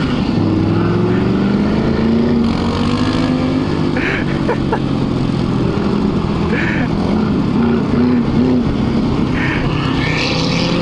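A big diesel vehicle engine rumbles loudly and steadily throughout, its low drone shifting slightly in pitch as it revs during a street ride.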